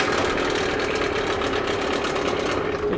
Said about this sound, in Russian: Мотор запускается, кнопка работает.